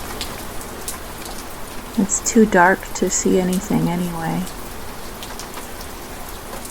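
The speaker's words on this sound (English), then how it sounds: "The clean, cold rain." Cold rain falling steadily outside near a porch, a dense even patter throughout, with a voice speaking quietly over it for a few seconds in the middle.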